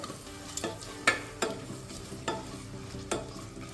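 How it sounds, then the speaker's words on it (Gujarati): Potatoes and peas sizzle softly in hot oil while a spoon stirs them, giving sharp scraping knocks at an irregular pace over a steady low fry. "બધા જ શાકભાજીને આપણે તેલમાં સારી રીતે મિક્સ કરી લેવાના છે"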